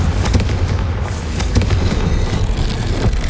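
A Confringo fire spell explodes in Hogwarts Legacy, a loud burst of crackling booms with sharp repeated blasts over a dense, rumbling roar.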